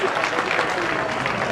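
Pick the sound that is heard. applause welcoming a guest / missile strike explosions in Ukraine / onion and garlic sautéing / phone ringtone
applause welcoming a guest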